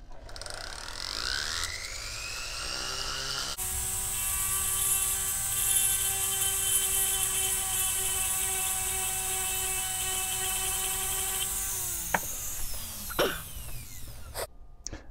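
Foredom SR pendant motor rotary tool running, a steady high whine that ramps up as the foot pedal is pressed, holds at speed, then winds down with brief clicks near the end, close and alone.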